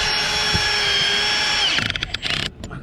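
Power drill whines steadily while fastening two metal roof plates together, then stutters and clicks as it tightens and stops near the end, close and loud.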